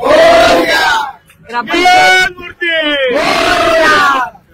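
A crowd at a Ganesh festival chants 'Ganpati Bappa' in three loud, close bursts of massed voices, with short pauses between each surge of the call.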